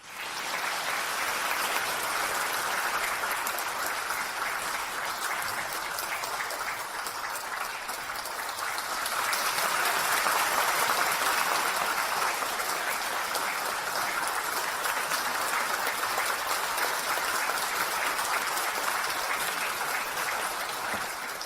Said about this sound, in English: let us give a warm round of applause to welcome Khenpo Sodarji to give us his lecture